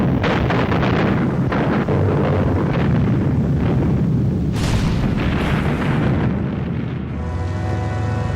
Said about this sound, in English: they were hit by a huge Soviet artillery bombardment